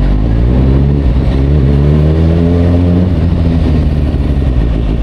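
Kawasaki Ninja ZX-6R sport motorcycle pulling hard under acceleration, its loud close engine note climbing steadily in pitch before levelling off, with constant wind and road roar.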